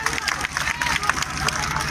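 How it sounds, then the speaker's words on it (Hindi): Audience at a school program claps and cheers to welcome guests, a dense, close burst of applause mixed with crowd noise and chatter throughout. "आए हुए अतिथियों के स्वागत में एक बार तालियां बजा दें।"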